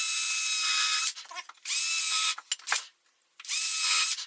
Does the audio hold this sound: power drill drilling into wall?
yes